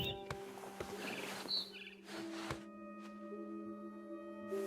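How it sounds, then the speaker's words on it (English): Barn swallow chirping in What Remains of Edith Finch, a few short, high, faint tweets that come and go over a steady tonal game ambience. "Then I heard chirping outside my window. It was a barn swallow going back to her nest."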